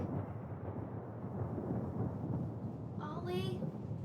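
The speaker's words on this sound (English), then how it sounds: "Oh, it is loud. That's a storm." A thunderstorm in the video game Tell Me Why, a low continuous rumble of thunder that rolls on steadily, with a brief burst of a voice near the end.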